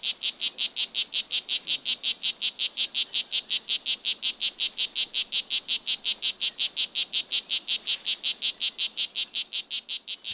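A small male strawberry poison dart frog calls in Costa Rican jungle with an inflated vocal sac, a rapid, even series of high buzzy chirps, repeating steadily and close, with no other sounds.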